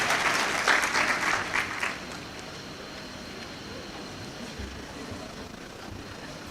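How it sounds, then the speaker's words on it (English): Graduates applauding at a university congregation ceremony for a college of basic and applied sciences: a short burst of crowd clapping in a large hall that dies away after about two seconds into quiet room tone. "Clap for yourself and sit."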